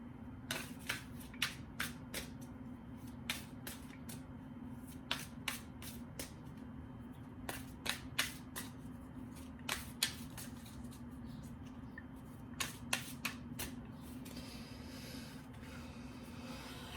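Tarot cards shuffled and drawn during a love reading, with repeated crisp snapping flicks of cards over a low steady hum, occurring in irregular bursts throughout.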